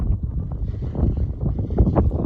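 A Rusi tractor engine roars in a rural tractor race, a dense, rumbling low drone that stays loud and steady throughout, roughened by wind buffeting the microphone.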